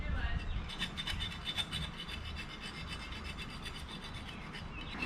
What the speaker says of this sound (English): So we're just gonna file a hair, focusing very much so on this edge.